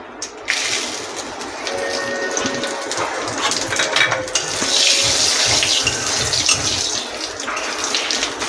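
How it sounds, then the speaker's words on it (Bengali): Two bay leaves, two dried chillies and whole cumin tempering in hot oil for a yam and hilsa curry, giving a loud, steady spitting sizzle with crackling bursts, close by and without talk. "ফোড়নে দেব 2টো তেজপাতা, 2টো শুকনো লঙ্কা, আর গোটা জিরে"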